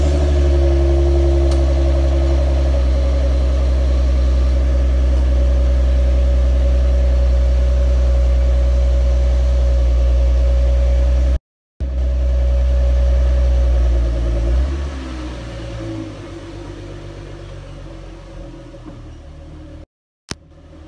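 A Ford Mustang with its stock exhaust idles nearby, a steady low drone holding even for several seconds before shifting and easing a little in pitch and level, with two brief dropouts and no one talking.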